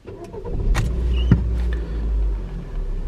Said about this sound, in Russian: Сейчас двигатель работает на бензине